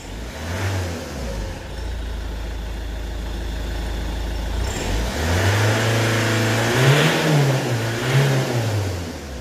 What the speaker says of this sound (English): Let's just rev this.